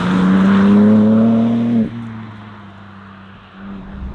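BMW M4 Convertible Competition xDrive with a ZF 8-speed gearbox, engine rising in pitch under acceleration, then a sharp upshift drops the note before it builds again; loud and close, no talk.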